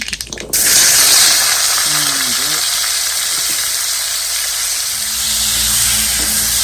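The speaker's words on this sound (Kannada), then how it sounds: "ಈಗ ಸಾಸಿವೆ ಚಟಪಟ ಅಂತ ಸಿಡಿಯೋದಕ್ಕೆ ಸ್ಟಾರ್ಟ್ ಆಯಿತು" Mustard seeds crackling in hot oil as cut vegetables go into the pan for a quick pickle, a loud, steady sizzle after an initial clatter, with scattered pops and faint clinks throughout.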